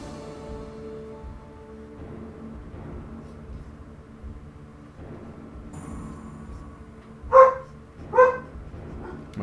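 A pet dog named Jojo barks twice near the end, two sharp loud woofs in quick succession, after a quieter stretch of room noise and faint background sound.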